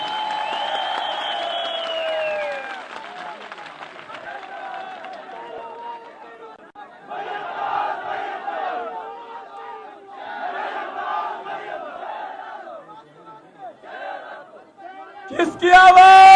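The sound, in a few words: crowd applauding and cheering at a political rally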